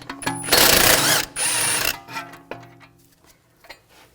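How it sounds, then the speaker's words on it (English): A 16mm socket wrench ratchets a nut and bolt out of a strut assembly on a 2007-2013 BMW X5. Two loud bursts of fast clicking come close together, followed by a few softer scattered ticks and knocks. "Using a 16mm wrench, 16mm socket, take this nut and bolt out"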